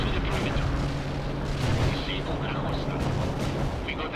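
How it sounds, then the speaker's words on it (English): Dense booming and rumbling explosions from airstrikes and bombing runs in a real-time strategy game, a continuous barrage of blasts and gunfire, with a voice talking over it. "There's tons of airstrikes."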